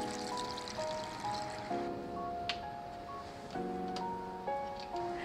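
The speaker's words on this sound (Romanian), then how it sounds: "și turnăm apă." Water poured into a pan holding chicken pasta sauce with cream, garlic and spices, a steady trickling stream running alone beneath background music.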